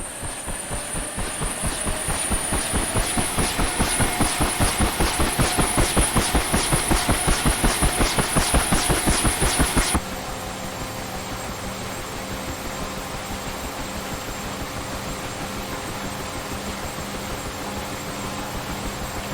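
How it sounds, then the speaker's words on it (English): A Bell UH-1 Huey helicopter in the DCS World flight simulator spins its rotor up during a cold start: a rapid, loud rhythmic chopping beat over a turbine whine that cuts off abruptly, leaving a steady, softer turbine hum. "The helicopter will toss you around quite a bit as the rotor spins up."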